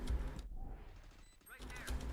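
Video game gunfire comes in rapid bursts, dense volleys at the start and again near the end with a brief lull between, punchy and close.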